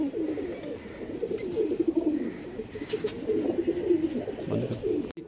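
Pigeons coo steadily throughout, a continuous layered murmur of low cooing from several birds close by, with a brief cutoff near the end.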